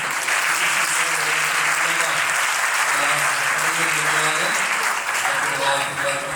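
A congregation at a year-end church worship service bursts into continuous, loud applause that fills the room, with a voice or music faintly audible underneath the clapping.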